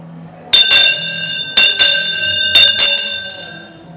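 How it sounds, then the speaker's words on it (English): A metal bell is struck three times at even intervals, each bright ringing tone sustaining and overlapping before slowly fading. "The language of the bell, you hit it 4 times."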